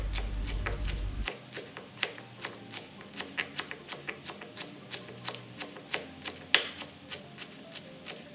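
A sharp stainless steel knife chops one stalk of spring onion and one stalk of celery on a board, with about twenty crisp, evenly spaced taps, close and steady after a brief low rumble at the start.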